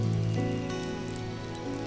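Rain in the Uma Musume story game, a steady soft patter of drops on surfaces mixed with a sustained musical tone, moderately loud throughout.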